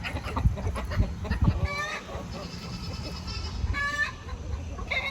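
A flock of bantam hens and roosters clucks and squawks nearby on a farm, with overlapping calls and bursts of chatter against busy background noise.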